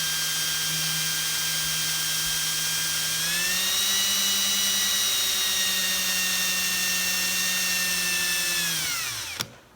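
A pinewood derby car wheel is polished on a spinning tool, giving a steady, high-pitched whine that rises slightly in pitch partway through, then winds down and stops abruptly at the end.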